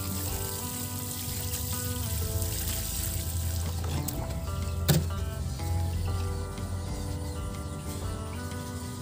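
Steady running water pours and splashes continuously onto plants, close by, with faint background noise.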